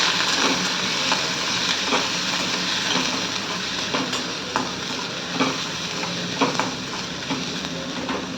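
Thinly sliced capsicum, onion, peas, carrots and French beans stir-frying in a pan, making a steady sizzle punctuated by regular scraping strokes of the spatula, close and moderately loud with no talking.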